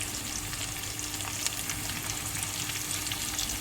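Beaten eggs fry together as one large omelette in a pan, a steady, even sizzle and crackle that holds at a constant level with no talk.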